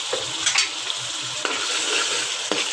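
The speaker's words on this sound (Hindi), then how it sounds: "अब इस मसाले को अच्छे से हमने ब्राउन करके" Green chili paste masala browning in a pan sizzles steadily up close, punctuated by several sharp scrapes and taps of a stirring spoon.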